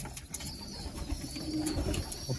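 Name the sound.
young racing pigeons in a loft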